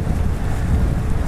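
Wind gusts across a big open levee trail on a chilly day, a loud steady roar of buffeting against the microphone that drowns out everything else.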